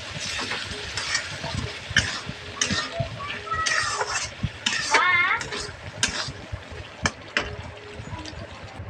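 Ridge gourd and lentils fry in a pan while being stirred, with intermittent scraping strokes and a soft sizzle heard close up. Someone talks over them.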